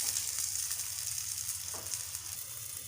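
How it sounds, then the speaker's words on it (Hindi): Chicken cooks in a pan with a little water, giving a soft, steady, even sizzle and hiss, close and unbroken, with no talking. "और अब हम इसको पकने देंगे ताकि चिकन अच्छे तरीके से गल जाए।"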